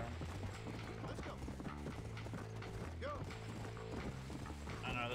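Galloping horse hooves in Red Dead Redemption, a rhythmic clip-clop of a running horse mixed with creaking tack and game sounds, steady and fairly close, with a brief whinny-like sweep midway.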